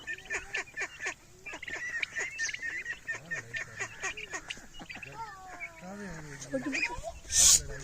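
Newly arrived ducks attack smaller ducks and squawk and honk harshly in bursts. Someone talks over the fight, and a loud squawk comes near the end.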